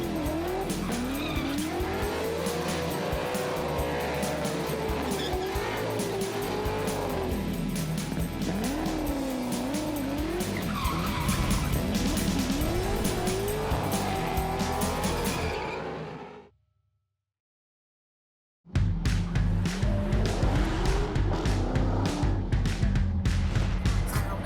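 Classic cars race at the Adelaide Motorsport Festival, engines roaring loudly with rising and falling revs and squealing tires, then a sudden brief silence before more engine noise.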